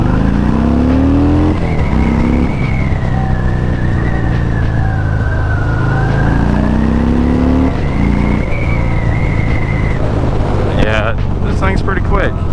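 A Harley-Davidson Fat Bob motorcycle on a test ride drones loudly and continuously, engine note rising and falling through gear changes under heavy wind rush, with a rider's voice talking over it.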